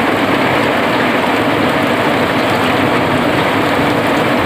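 Rain falling outdoors at a roadside siomay food stall in Liwa, West Lampung, a loud dense continuous hiss that stays constant throughout, with no speech.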